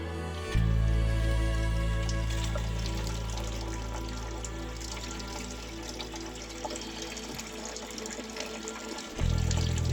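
Tap water runs steadily from the drinking water system installed in a van, a continuous hollow gush that starts abruptly, holds for several seconds and dies away, with a low rumble beneath it.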